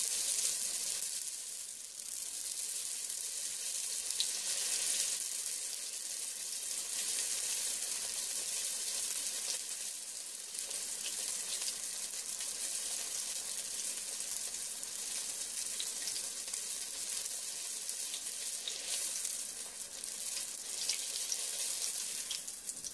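Ravioli being lowered into hot oil give off a steady, continuous sizzle of frying, even and fairly close, with no voices.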